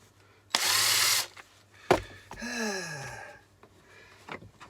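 Power drill backing screws out of a door, a loud close whir followed by a descending slowing spin-down, with clicks and thumps between bursts.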